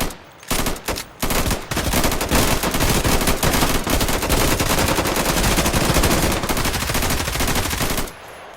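Loud, sustained bursts of rapid gunfire crackle almost continuously, starting with a few short volleys and then a long barrage.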